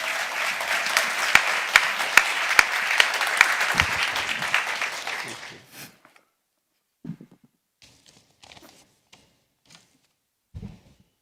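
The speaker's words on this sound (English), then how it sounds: "A big applause for His Excellency, Ban Ki-moon." An audience at a climate adaptation gathering in Nairobi gives a loud round of applause that fades out after about five seconds. A few faint knocks and shuffles follow in near silence.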